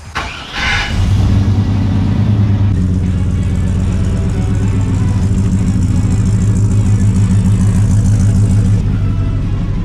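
A truck's loud exhaust drones low and steady while it cruises down the road on new, balanced tires, after a brief noisy burst at the start.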